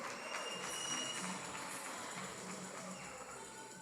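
An audience applauds a life coach at a live event, a continuous, full round of clapping from many hands that stays steady and slowly eases in volume.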